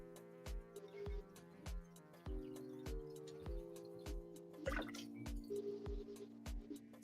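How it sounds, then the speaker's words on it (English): Liquid drips out during a FECO extraction from Everclear, steady distinct drops falling at an irregular rhythm, close and clear over a faint humming background. "It's dripping out pretty good now"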